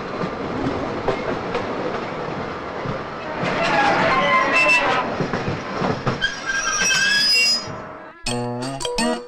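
A passenger train runs with a continuous rumble and rhythmic clatter of wheels on rails, with some squealing metallic tones, while people talk over it.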